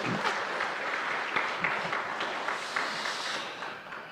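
Applause from a congregation at a Korean church Sunday service rolls on in a full, continuous patter of many hands, moderately distant and tapering slightly toward the end, with no speech over it.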